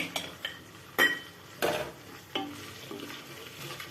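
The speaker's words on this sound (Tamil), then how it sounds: "இது வெங்காயம் வேந்து வர்றதுக்கு ரொம்ப டைம் ஆகும்" Onions frying in a pan for village-style mutton biryani, a soft background sizzle broken by several loud metal stirring scrapes and clinks of a spoon against the pan.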